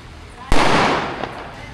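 Fireworks burst at a festival in Nepal, a single loud close blast followed by a crackling, rumbling decay lasting over a second.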